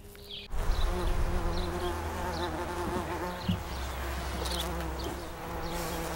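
Honeybees buzz steadily around an outdoor beehive in a West Seattle bee garden, a dense continuous drone with individual bees passing close now and then.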